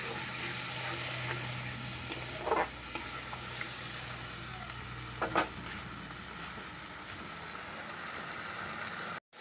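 Spice paste sizzling in hot oil while being stirred for aloo fulkopir dalna, a steady close crackle with a couple of louder scraping strokes, then cutting off abruptly.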